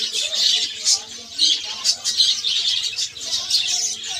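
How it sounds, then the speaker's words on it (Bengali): A flock of budgerigars at a bird farm chatters and chirps nonstop, bursts of bright warbling calls rising and falling close by. "বুদ্ধি পাখি আছে"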